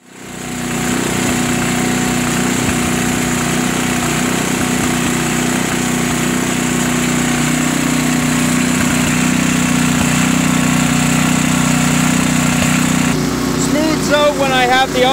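A small engine fitted with a Nikki carburetor, apparently on a snow blower with an auger, runs steadily and loudly close by with a constant droning hum, a slight change in tone near the end.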